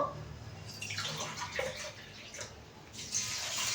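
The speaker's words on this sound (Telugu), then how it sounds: "ఈ గ్లాస్తోనే ఇప్పుడు వాటర్ కూడా వేస్తున్నాను" Water is poured from a glass into a pot of rice for chicken biryani, a continuous close splashing that swells and eases with each pour.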